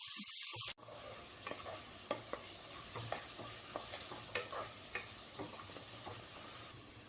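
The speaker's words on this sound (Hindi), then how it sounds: "सौटे करते रहेंगे। ब्राउन यानी बहुत ज्यादा ब्राउन भी नहीं, गोल्डन ब्राउन से थोड़ा ज्यादा। फ्लेम को हाई पे ही रखिए।" Onions sauté on a high flame in a pressure cooker for chicken biryani, a quiet steady sizzle with scattered clicks and scrapes from stirring, after a short burst of noise at the start.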